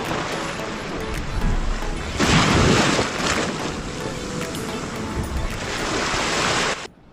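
Sea waves wash and break on the shore below Betul Fort in Goa, a continuous loud surge with one heavier crash, roughened by wind buffeting the microphone.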